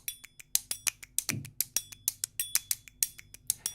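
Finger snaps from the PolyRhythmus Jazzy Night expansion: a steady run of about twenty crisp, dry snaps in a bouncy, even rhythm, close and clear with nothing else around them.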